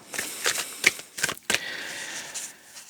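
A few short, close bursts of playing cards being shuffled, crisp flutters separated by brief gaps, then a softer rustle trailing off.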